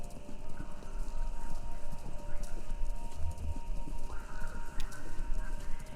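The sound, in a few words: horses running a race in video game Kentucky Route Zero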